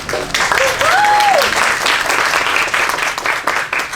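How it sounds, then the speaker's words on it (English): An outdoor audience at a city celebration in a historic district applauds loudly and steadily, dense clapping throughout with a brief voice or whistle rising over it near the start. "Give her a round of applause."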